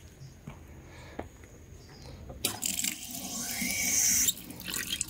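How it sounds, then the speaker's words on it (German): Tap water runs at a campsite beside a grill area, a steady bright rushing stream that starts abruptly partway through and continues loudly before easing near the end. "Hier fließend Wasser."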